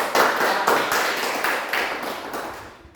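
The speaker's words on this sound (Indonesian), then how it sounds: "kita tepuk tangan untuk kelompok" A class claps for a student group after its presentation, a short burst of hand clapping with a few stronger swells that thins and fades toward the end.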